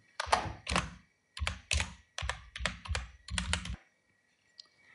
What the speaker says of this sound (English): hit F2 on the keyboard